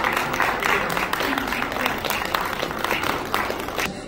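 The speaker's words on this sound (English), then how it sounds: "Can we have once again a thundering applause for sir?" An indoor audience applauds Dr Ali Erani at a Nanavati Hospital event with steady, dense clapping that holds across the moment and carries a crowd murmur beneath it.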